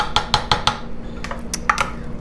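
A broccoli rice casserole is mixed in a pan, with four quick metallic clanks of a utensil against the pan, a soft pause, then a few more scrapes and knocks, close and fairly loud.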